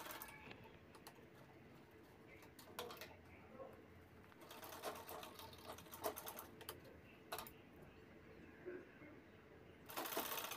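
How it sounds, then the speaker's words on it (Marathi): A sewing machine stitches the bottom corners of a fabric sling bag, giving a faint, rapid mechanical clatter in short bursts with brief pauses between runs. "आता खालच्या साईडचे आपल्याला 4ही कोपरे शिवून घ्यायचे आहेत."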